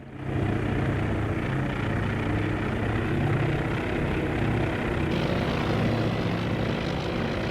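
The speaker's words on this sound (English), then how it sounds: "Planes are spotted. They're ready to take off. We're going to launch those 3 SBDs." In the carrier battle game Task Force Admiral, SBD dive bombers launch from the flight deck. Propeller aircraft engines drone loud and steady throughout, with a dense roar of engine and wind.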